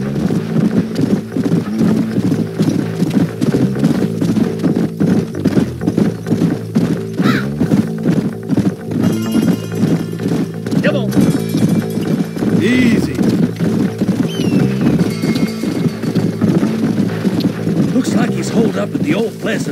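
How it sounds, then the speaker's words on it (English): Horses galloping in the Red Dead Redemption video game: rapid, continuous hoofbeats with an occasional whinny, loud and close throughout, while people talk over them. "Let's hold up a minute and find a spot for our horses."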